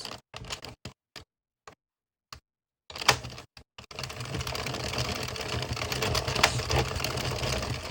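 An Addi/Sentro circular knitting machine is cranked: a few separate clicks, a pause, then a dense, continuous run of rapid mechanical ticking as rows are knit, close and clear, with no talking.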